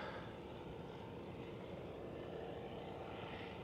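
An airplane comes in to land at Faa'a airport, Tahiti, making a steady, moderately distant engine roar that holds evenly throughout with no talking.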